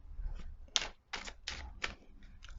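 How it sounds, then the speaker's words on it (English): Tarot cards being shuffled, a series of quick papery riffles and slaps in short bursts, close and moderately loud, with no voices. "And one more shuffle."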